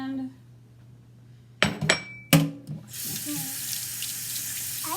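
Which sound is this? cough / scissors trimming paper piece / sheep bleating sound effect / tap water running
tap water running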